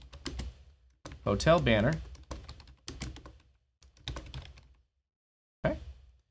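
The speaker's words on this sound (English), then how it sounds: "let's go ahead and type in Barcelona" A computer keyboard clacks in short bursts of typing, entering text into a content management form, interleaved with a person talking nearby.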